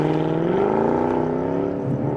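A rare Mercedes CLK 63 driving through empty city streets, its engine note loud and close, a continuous droning hum that rises slightly in pitch as it pulls forward, with no voices.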